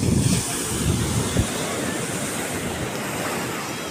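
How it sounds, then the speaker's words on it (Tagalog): Large ocean waves, a broad roaring wash of surf with heavy wind buffeting the microphone, loud and continuous with a few low thumps early on. "Aba, ang lalaki ng alon."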